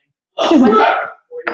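At a salad-in-a-jar workshop, a person lets out one loud, sharp sneeze, followed by a brief pause and then a short spoken phrase.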